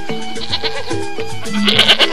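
A goat bleats over and over in short wavering calls, close and loud, with a couple of quick cries following one another in a brief run outdoors.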